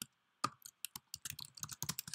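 Rapid typing on a computer keyboard while entering PHP MySQLi connection code, a dense run of sharp close key clicks in an uneven rhythm after a brief quiet start, with no talk.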